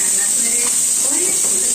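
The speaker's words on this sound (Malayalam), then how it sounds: "ഒരു 3 വറ്റൽ കൂടെ ഇട്ടിട്ട് അത് നമുക്ക് ഈ ചൂടായ എണ്ണയിലേക്ക് ഇടാം." Dried red chillies drop into hot coconut oil in a home kitchen and set off a bright, steady sizzle. The hiss is close and constant, and a voice murmurs faintly beneath it.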